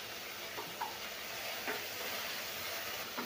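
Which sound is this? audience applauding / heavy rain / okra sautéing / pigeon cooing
okra sautéing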